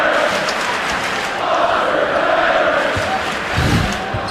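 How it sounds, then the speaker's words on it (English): A basketball arena crowd at a Purdue versus Michigan State college game chants in a loud, sustained roar of massed voices, with some rhythmic swelling toward the end. "The crowd is chanting, "Foster's better.""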